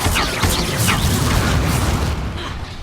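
A Confringo blasting spell in Hogwarts Legacy bursts into a loud, booming explosion up close, followed by crackling debris and rumble fading over a few seconds.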